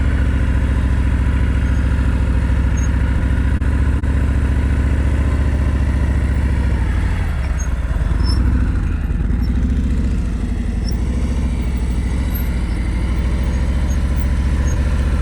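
A motorcycle engine idles and putters steadily and loudly nearby during slow-speed riding skills practice, with a slight shift in tone midway through.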